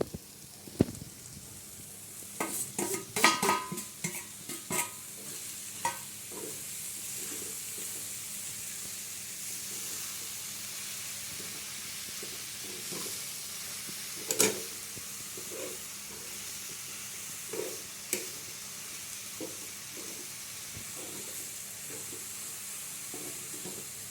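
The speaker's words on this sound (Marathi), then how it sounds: "हा जवळा धुवून ठेवलाय तो टाकणार त्याच्यामध्ये." Washed dried javla shrimp go into a pan for stir-frying a Malvani dry javla dish, with a steady soft sizzle under a flurry of scraping stirs early on and occasional clinks later.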